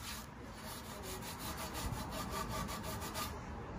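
A cloth rubs back and forth across an aluminium alloy wheel in a workshop, a close, steady scrubbing sound with rhythmic strokes and no talking.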